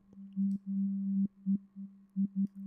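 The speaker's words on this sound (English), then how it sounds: "So I'm going to add in a delay effect, and this should really send our sound to another area." Synth in Reaktor run through a delay effect with feedback: a steady low sine tone broken into repeating pulses with clicky edges, echoes stacking and stuttering in an uneven rhythm, clean and alone.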